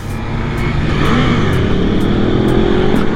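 Ducati Multistrada V4S motorcycle accelerating hard in sport mode: a loud, close engine roar climbing steadily in pitch with rising revs, continuous throughout with wind rush.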